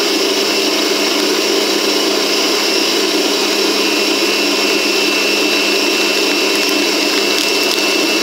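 An electric mixer whips butter with sugar for a frangipane filling, a loud, constant, steady whir running without a break throughout, with no talking.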